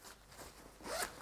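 A zipper on the mesh pocket of a 3V Gear Shift Urban Sling Pack is pulled open in a quick, soft, close-up rasp that rises briefly near the end.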